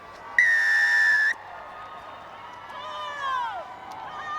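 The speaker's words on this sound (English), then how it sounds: "Wait for the whistle, please." A referee's whistle opens a women's rugby test match between the Black Ferns and Wallaroos at Eden Park: one loud sustained blast lasting about a second, followed by crowd noise and a fainter, wavering whistle-like tone.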